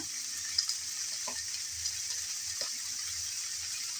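Ginger and garlic paste frying in a pan, a steady bright sizzle throughout with a few faint scrapes of stirring.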